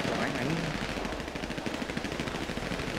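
Rapid automatic gunfire from a GTA 5 roleplay shootout rattles in quick bursts, loud and continuous, with voices talking underneath.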